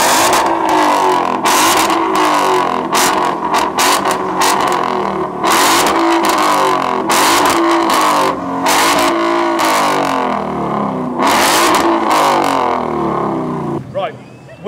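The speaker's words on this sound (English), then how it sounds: "Let's hear that Coyote engine sing." A loud, close Ford Coyote V8 engine with a straight-through exhaust revs hard in repeated bursts at a supercar show, the roar rising and falling with a deep exhaust rumble throughout.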